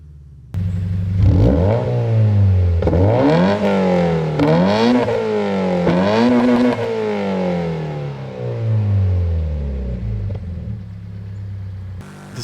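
A Subaru BRZ/Toyota 86 flat-four engine in the Forza Horizon 5 racing game revs up repeatedly, several loud rising and falling sweeps up close with a rumbling tone, then settles and drops off near the end.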